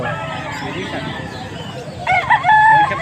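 A rooster crows once near the end, loud and close, over background chatter of people talking at a poultry keeper's place in Pampanga.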